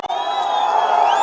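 Crowd at a political rally in Tamil Nadu roaring and cheering continuously, loud and sustained with shouts and whoops rising over the mass of voices.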